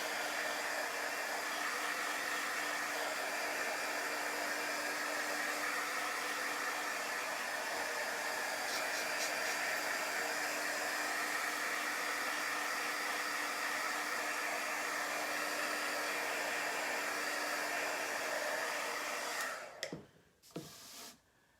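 A hair dryer runs continuously and fairly loud for around twenty seconds, drying a chalk paste design, before switching off into brief handling noises.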